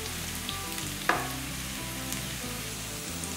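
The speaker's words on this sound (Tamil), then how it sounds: "இதெல்லாம் நல்லா வதங்கட்டு, இன்னுமே நல்லா கலர் மாறணும்" Onions and cashews sauté in hot oil in a pan for a chicken curry, giving a steady close sizzle with a soft stirring scrape partway through.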